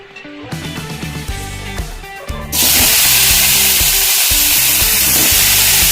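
Cut brinjal (eggplant) hits a hot pan partway through and sets off a loud, steady sizzle that continues to the end, with background music playing underneath.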